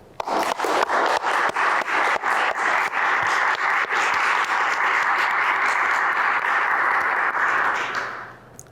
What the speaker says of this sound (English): Please join me in a warm round of applause for our graduates.